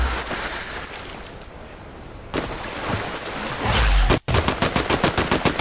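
Gunfire in the Fortnite video game: continuous crackling game ambience with a rapid burst of repeated shots near the end, loud and close, with no talk.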